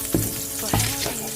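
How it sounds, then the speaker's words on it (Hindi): Two tablespoons of butter sizzling in a hot pan just used for chicken: a loud, close frying crackle with a couple of sharp bursts and stirring, and no talking. "अब मैं यहीं पे ऐड कर दूँगी 2 टेबलस्पून बटर।"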